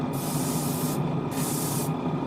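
Airbrush spraying paint onto a 1/144 Zeta Gundam model kit over primer: a steady, close, continuous hiss with brief breaks in the upper hiss as the trigger is eased.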